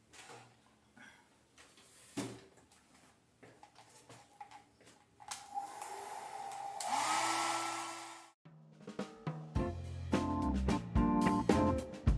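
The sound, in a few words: hair dryer blowing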